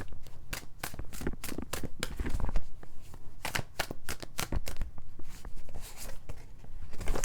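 Angel oracle cards are handled and shuffled, giving a close, steady run of crisp papery riffles and slaps repeating in quick bursts with no talking.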